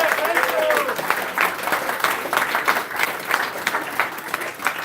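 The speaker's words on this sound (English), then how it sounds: "A round of applause, by the way, for the folks here at this fine establishment." A crowd at a town hall meeting inside a New Hampshire brewery breaks into a round of applause, with dense clapping and a few cheers that gradually thin out into scattered claps.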